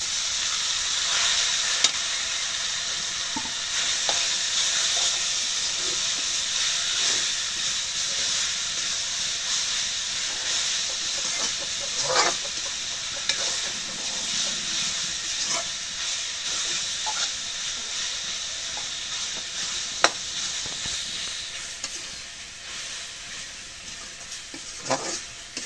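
Water spinach sizzles and hisses in hot oil with fried onion and chili, a steady frying roar stirred with occasional scraping clicks, close and continuous with no talking.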